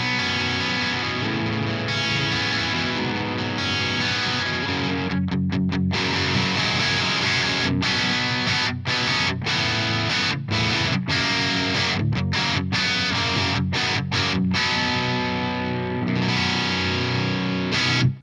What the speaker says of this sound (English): Okay, so now I want to play more of a crunchy sound.